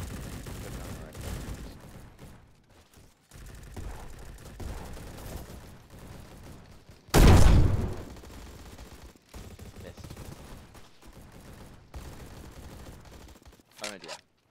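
A single loud sniper rifle shot in the Roblox shooter Bad Business cracks out about halfway through, standing above steady background game noise and faint muffled chatter, with a brief sharp click near the end.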